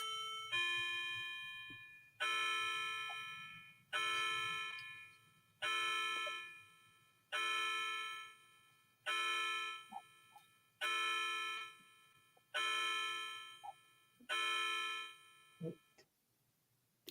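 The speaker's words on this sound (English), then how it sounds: "All right, count the chimes." Clock striking the hour with eight evenly spaced metallic chimes, each ringing out and decaying before the next, clear and fairly close in an otherwise quiet room.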